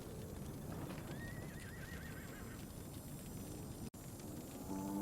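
Horses in the Ferelden world of Dragon Age Inquisition, a soft whinny rising over a faint steady bed of hoofbeats and ambient noise, quiet and somewhat distant, with a brief dropout near the end.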